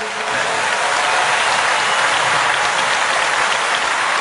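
Large crowd at the WorldSkills opening ceremony in Lyon applauds again, a loud, dense and unbroken roar of clapping filling the hall evenly throughout.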